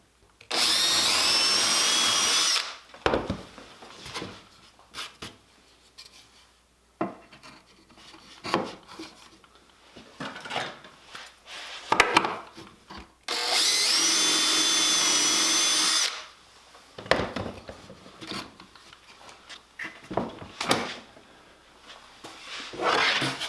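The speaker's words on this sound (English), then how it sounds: "Take off the edge guide, remove the screws." A power drill removes screws from a woodworking edge guide in two long bursts of steady, loud whirring, separated by quieter handling clatter and scraping of tools and wood.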